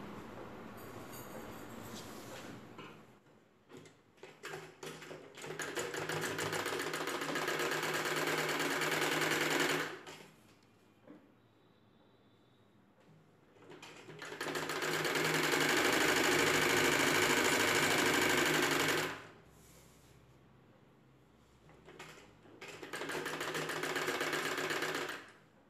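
An electric sewing machine stitches the side seams of umbrella top cloth in three long runs of rapid, steady whirring, each separated by brief pauses, close and clear.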